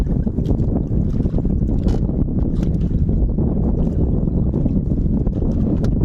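Steady wind roars across Maqueda Bay in the Philippines, buffeting the microphone on a small boat with constant low rumble and gusty bursts, waves sloshing beneath.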